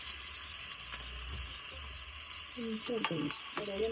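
Prawns for a spicy green-chilli prawn dish fry in a pan with a steady, moderate sizzle and occasional stirring, while voices speak briefly over it toward the end.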